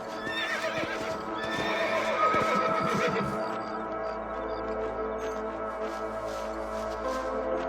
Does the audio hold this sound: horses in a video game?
yes